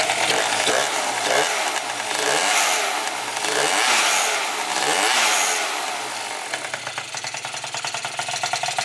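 A rebuilt junkyard Yamaha Zuma scooter engine with an aftermarket exhaust revs loud and close, rising and falling in several surges before settling into a rough, buzzing idle.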